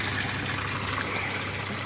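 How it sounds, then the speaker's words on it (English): An aquaponics system's pump lifts water straight up from the sump tank: a steady, dense rush and trickle of water that does not change, close and without talk. "this is where the pumps are located, and they pump the water straight up"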